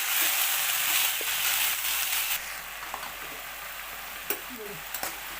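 Soaked chanangi field beans fry in hot oil with a continuous loud sizzle that eases after a couple of seconds, leaving a softer crackle with occasional clinks of stirring.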